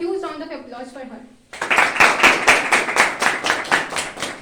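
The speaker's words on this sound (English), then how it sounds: "Let's have a huge round of applause for her." Audience applause breaks out at a Republic Day school celebration, a loud burst of dense clapping that starts suddenly after a sung or spoken voice and carries on steadily to the end.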